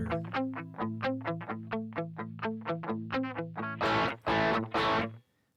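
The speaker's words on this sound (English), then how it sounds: "the squish is a distortion triggered compression" Quilter Elevate amp gain block with its squish control engaged, distortion-triggered compression on a guitar: a run of plucked distorted notes in steady rhythm, then a few loud sustained strummed chords, close and alone.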